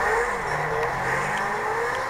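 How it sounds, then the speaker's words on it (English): A blue Lamborghini in Grand Theft Auto V holds a steady, loud engine drone for the whole stretch, a continuous revving hum without breaks and with no talk over it. "I'm gonna use my blue Lamborghini"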